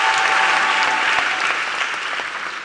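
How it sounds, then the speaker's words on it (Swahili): A church congregation bursts into loud, dense clapping at a sermon, an even wash of many hands that fades slightly toward the end. "Pigie Bwana makofi ya shangwe."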